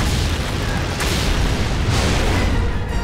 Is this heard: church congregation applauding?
no